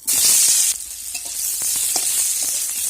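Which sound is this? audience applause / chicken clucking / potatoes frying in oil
potatoes frying in oil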